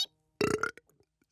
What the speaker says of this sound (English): just practicing for the next burping tournament